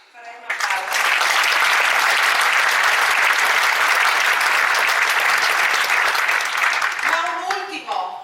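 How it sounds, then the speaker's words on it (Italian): Audience applause at a Confindustria Belluno Dolomiti business association assembly, a dense, loud burst of clapping sustained for about six seconds before fading, with a few spoken words at its tail. "Farei un applauso."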